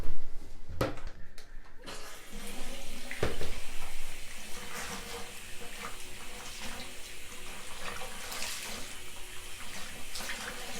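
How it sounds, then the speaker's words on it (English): Water runs from a bathroom tap while a sponge is rinsed out during bath cleaning, a steady close splashing flow with a few sharper knocks near the start. "So rinse out your sponge"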